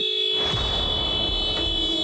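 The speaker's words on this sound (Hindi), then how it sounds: "देखो जरा क्यों हॉर्न बजा रहा है।" A car horn blares continuously at close range, a steady harsh tone held without a break against a background of rumbling noise.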